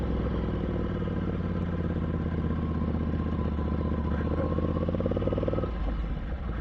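A Ducati motorcycle riding slowly over loose sand, its engine a steady mid-pitched rumble with clattering texture, close and continuous before easing slightly near the end.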